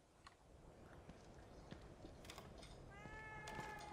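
A cat meows in the horror video game The Evil Within 2, a single drawn-out cry near the end over a low, steady background hum, with no talking.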